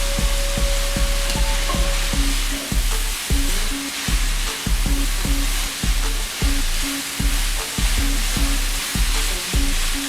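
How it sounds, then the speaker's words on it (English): Mushrooms and mixed vegetables sautéing in olive oil in a pan, a steady loud sizzle with a regular rhythm of clicking or tapping, about two per second, running right through. "the mushrooms need a little time to saute too, so we're gonna go ahead and let these saute up for about 2-3 minutes"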